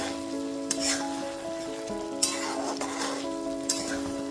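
Small spiced potatoes for alur dum being stirred in a pan, a steady sizzle and frying hiss running throughout, with a few louder scraping strokes of the spoon standing out, no talking.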